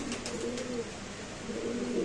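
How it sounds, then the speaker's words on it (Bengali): A pair of Maxi racer pigeons coo in low, repeated throaty calls, steady and close, with some faint background noise from a pigeon market setting. "এখানে আছে একজোড়া মাক্সি রেসার কবুতর"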